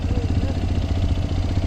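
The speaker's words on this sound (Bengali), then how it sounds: "অলরেডি বাইক স্টার্ট হয়ে গেছে" A Hero Xpulse 210 motorcycle idles steadily just after starting, a close, even, low rhythmic engine chug with a faint mechanical whir and no speech.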